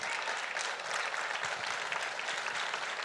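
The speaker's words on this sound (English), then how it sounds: "you can clap for that" An audience at a presidential speech at the TSMC chip plant in Arizona bursts into loud, dense applause, a continuous wash of clapping that holds steady throughout without speech on top.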